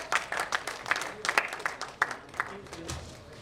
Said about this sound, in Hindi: एक बार जोरदार तालियां हो जाए हमारे